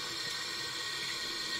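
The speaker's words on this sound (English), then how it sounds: "the new inlet valve is installed, but what has happened, it's still overflowing even on the lowest" Water runs continuously into an overflowing toilet despite a newly installed inlet valve, a steady close rushing hiss with no breaks.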